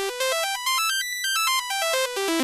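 A synth chord broken into a fast arpeggio by an FL Studio arpeggiator with range set to 3, bright beeping tones stepping up and down across several octaves in a quick even rhythm, clean and alone.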